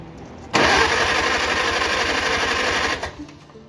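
A 1949 Farmall Cub tractor engine cranks on the starter during a compression check on cylinder three, a loud rapid rhythmic chugging that starts abruptly, runs about two and a half seconds, then stops.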